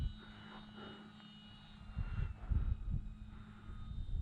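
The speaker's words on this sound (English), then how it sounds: "It's just a fun plane to fly." A Hacker XL Zoom model airplane's small engine drones steadily at a distance, its pitch wavering slightly as it passes, with a faint breezy rumble underneath.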